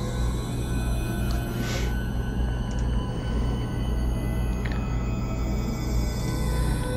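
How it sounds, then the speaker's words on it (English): Output of a Pure Data frequency domain filter patch: a steady, dense filtered drone with low sustained tones and a few faint brief chirps above, continuous and even throughout, with no voices. "frequency domain filter part itself sounds like this."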